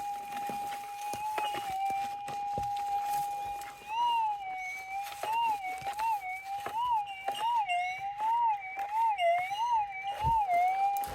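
Metal detector signal tone while gold hunting among rocks in a rainforest: a steady high electronic whine that warbles and wobbles repeatedly as the coil sweeps over a target, up close and continuous, with faint rustling and scraping in the background.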